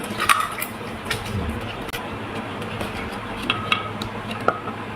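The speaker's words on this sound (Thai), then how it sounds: "นี่ครับผมใส่แล้วก็คนนะผมคนให้เข้ากันนะ" Pickled clams being stirred into a mixture in a kitchen, giving soft scraping and occasional light clinks of a utensil against a bowl or pot, close and fairly quiet with some background noise.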